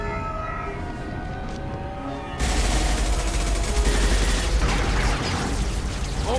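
Heavy gunfire erupts suddenly in a Mass Effect 2 firefight, a dense loud burst of shots following a quieter stretch with a wailing siren-like tone, then continuing steadily to the end.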